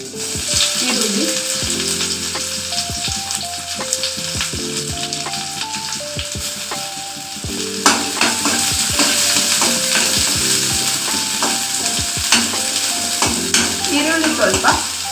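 Onions fry in a pan for lemon rice chitranna, a dense, close crackling sizzle with frequent spatula scrapes and taps against the pan, while soft background music plays throughout and nobody talks.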